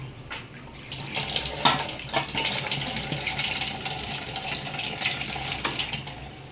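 Amaranth leaves are washed under a running tap, a steady splashing stream into a sink with occasional handling noises, close by and without speech.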